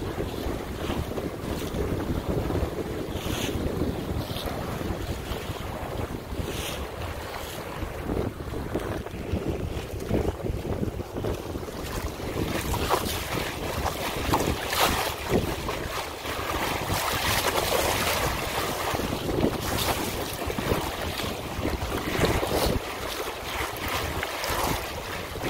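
A Compac 19 sailboat reaching at six knots with the wind on the beam: constant rushing wind buffeting the microphone over sloshing waves and water along the hull, steady and loud throughout with no talk.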